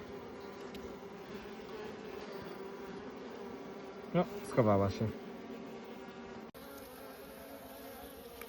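Honey bees swarming around a marked queen at an apiary hum in a steady, close buzz, with a short burst of louder buzzing near a wing partway through and a brief spoken remark.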